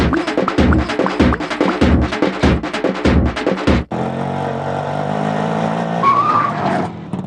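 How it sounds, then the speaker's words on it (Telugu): An auto rickshaw's engine runs over rapid rhythmic clatter, then brakes hard to a sudden stop with a loud tire skid and a rough idling rumble, all close by. "ఏంటి సడన్ గా ఆటో ఆపావు?"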